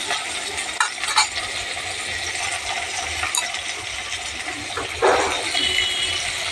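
Pointed gourd slices sizzle in a frying pan with a steady, close crackle of hot oil, broken by a few brief clinks and stirring scrapes.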